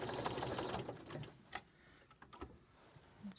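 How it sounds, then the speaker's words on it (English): A sewing machine quilts stitches straight over pins, making a quiet, rapid mechanical whirr and clatter that stops and restarts with a few soft ticks, close but low in level. "I can just machine quilt right, or make stitch right over those straight pins"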